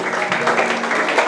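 A church congregation in Mauritius claps together in a dense, steady burst of applause that fills the room, with some voices mixed in.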